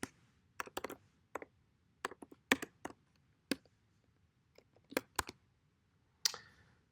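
Code typed on a computer keyboard in short bursts of crisp key clicks with gaps between, close and fairly quiet, no talking.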